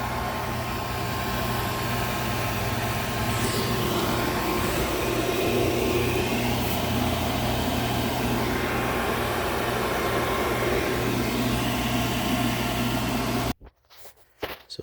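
A steady mechanical drone of an HVAC vacuum pump evacuating a mini-split system, running continuously, loud and unchanging, cutting off abruptly near the end.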